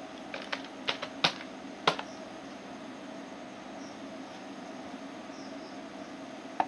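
Quiet clicks and taps of a computer keyboard while a school name is typed into a search box, several sparse keystrokes in the first two seconds, then a low steady room hum.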